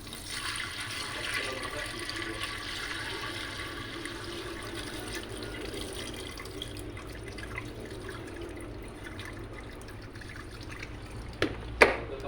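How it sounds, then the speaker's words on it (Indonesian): Rice is rinsed in water and the rinse water poured away, before cooking in a pressure cooker: a steady wash of splashing, running water, close and moderate in level, ending with a few sharp clicks. "Kita bersihkan lagi berasnya, lalu airnya kita buang lagi."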